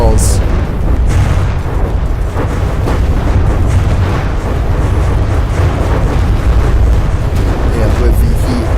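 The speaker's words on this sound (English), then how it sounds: "See a good bombarding of shells." Shell bombardment hammering a bunker in the naval combat game From the Depths: a dense, continuous barrage of loud deep booms and rumbling blasts that keeps going without any letup.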